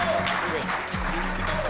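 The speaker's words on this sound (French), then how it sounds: "Bravo, on peut l'applaudir." An audience claps briefly at a school quiz match between two colleges, a short burst of applause heard under some background murmur and tonal noise.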